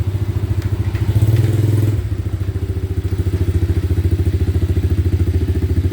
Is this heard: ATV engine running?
yes